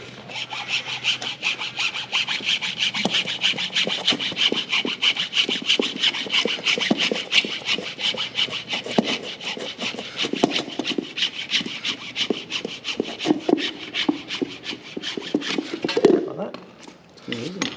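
A steady rasping back-and-forth cutting stroke repeats rapidly for several seconds, close up, cutting a small notch while fitting rear airbags to a Land Cruiser 300, ending with a brief clatter.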